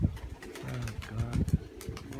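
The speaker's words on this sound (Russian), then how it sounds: "Ну, вы видели, сколько голубей было в небе." Pigeons coo nearby in a series of soft, throaty, rising-and-falling calls, overlapping one another against faint outdoor background noise.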